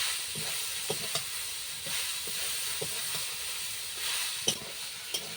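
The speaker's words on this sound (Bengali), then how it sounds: "এরপর আমি শাকটা এর মধ্যে দিয়ে দিলাম দিয়ে ভালো করে নাড়িয়ে নেব" Susni greens stir-fry in a pan with garlic, making a constant oily sizzle and hiss with scattered spatula scrapes and taps throughout.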